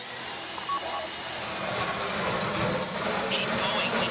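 A heist drill in GTA 5's Fleeca Job bores steadily through a vault lock, a continuous grinding whine droning at even loudness throughout, with no voices over it.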